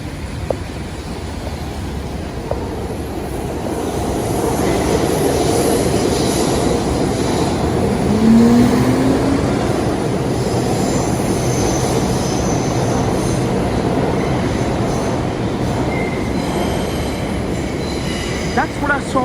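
A New York City subway train rumbles loudly and continuously nearby, with a brief rising wheel squeal partway through and a constant roar of rail noise.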